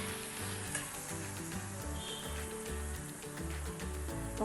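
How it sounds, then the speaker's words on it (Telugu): A spoonful of ginger garlic paste frying in hot oil with softened tomatoes in a pan, giving a loud, steady close-up sizzle that carries on without a break. "1 స్పూన్ అల్లం వెల్లుల్లి పేస్ట్ వేసి బాగా వేయించుకోవాలి"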